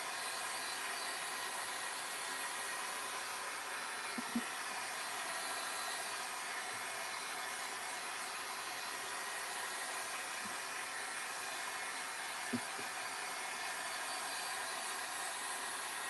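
A hair dryer blows on wet artwork in one steady, fairly quiet whoosh lasting throughout, with a couple of tiny clicks and no talking.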